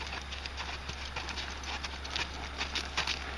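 A horse on a loose rein clip-clops steadily at a walk and trot, the hoofbeats soft and fairly close over a low constant hum, with no talking.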